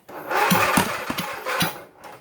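A Sears GT18 lawn tractor's V-twin engine turning over as someone tries to start it, cranking in a few uneven chugging pulses that rise and fade without catching, close and loud.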